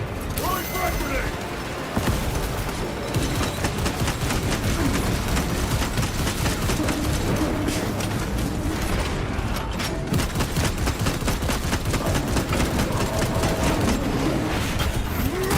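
Dense gunfire and explosions from Space Marine 2 roar continuously for the whole stretch, with frag grenade blasts and heavy mechanical clatter mixed in. Faint voices are buried beneath the loud, unbroken battle noise.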